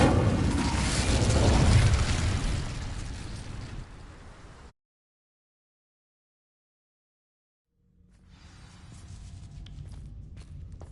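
In the video game Hogwarts Legacy, the Incendio fire spell ignites dry vines. A loud, rumbling burst of flame roars and fades out, then silence follows, then a quieter mechanical ambience returns.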